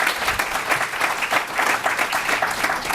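Audience applause at a conference gathering, a broad wash of many hands clapping at a steady, fairly close level with slight swells throughout.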